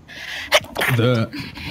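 A single sharp sneeze bursts out among people talking, a quick loud snap followed by voices continuing nearby.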